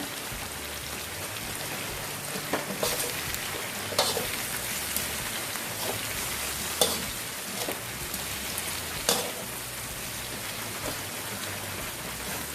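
Deveined shrimp with a little tail left on stir-fry in a pan. A steady crackling sizzle sounds close by, broken by scattered scraping knocks and clicks from the stirring. No one speaks.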